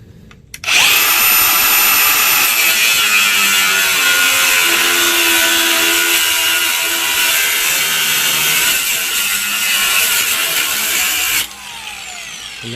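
A 4.5 inch angle grinder with a cutoff disc cuts through a rusted-out exhaust pipe on a V10 Super Duty truck, a loud, sustained, high-pitched whine lasting about eleven seconds before it stops abruptly and winds down.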